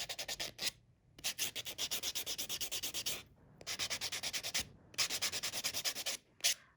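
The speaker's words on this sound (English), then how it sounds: "So I'm going to go ahead and just keep buffing here just a little bit." Close, steady buffing of a dip-powder nail surface: quick rhythmic back-and-forth rubbing strokes in several bursts, separated by brief pauses.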